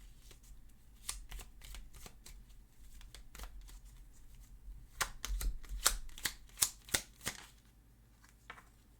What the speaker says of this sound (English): let's get another card here to clarify these two cards